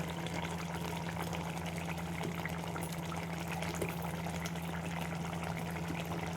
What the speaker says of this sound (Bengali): দেখো আমি এবার এর মধ্যে একটু ঘি দিয়ে দেবো।